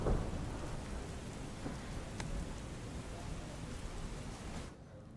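Heavy monsoon rain over flooding Chhota Udepur, Gujarat, falls as a steady, dense hiss with a sharp crack of thunder partway through, loud and close.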